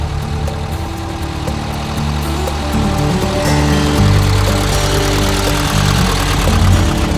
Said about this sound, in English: These buggies are incredible, just like those old sand buggies from the 60s and 70s